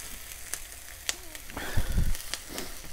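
Onions fry in a pan with a soft, steady sizzle punctuated by a few sharp clicks and a brief louder stirring or scraping rumble near the middle.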